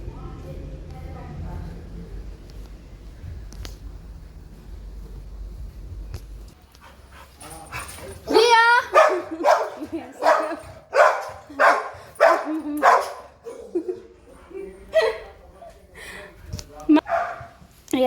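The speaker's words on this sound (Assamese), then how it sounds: "কুকুৰটোক বান্ধি থোৱা আছে ন আমি?" A tied-up dog barks and whimpers in a run of short, repeated bursts in the second half, close and fairly loud, with people talking nearby.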